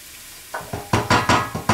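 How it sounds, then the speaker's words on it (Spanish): Two teaspoons of paprika sautéed over low heat in a pan for a broad bean and clam stew, with a spoon scraping in five or six steady, evenly spaced strokes over a soft sizzle. "echamos el pimentón, 2 cucharaditas, y lo rehogamos"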